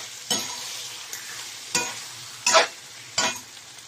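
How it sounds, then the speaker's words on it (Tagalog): Pork sizzles in a hot pan, with several sharp bursts of crackling as it is stirred, separated by a quieter steady sizzle. "Pangkutsa ko muna yung aking baboy. Yan, hanggang magpula siya."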